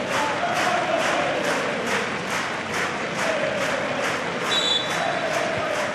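Football crowd at Dundalk FC versus FC BATE Borisov, stirred by a scoring chance: a dense, steady roar of many voices filling the stadium, rising slightly toward the end, with a brief whistle-like tone near the close.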